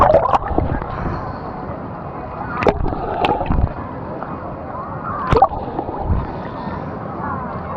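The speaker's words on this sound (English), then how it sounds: "the waves are rocking" Waves slosh and splash in the Typhoon Lagoon wave pool, with recurring surges of water washing past at a steady rhythm, close and moderately loud, under a background of voices and ambient noise.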